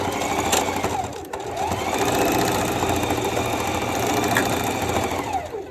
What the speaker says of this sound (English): Sit it under there, straight stitch.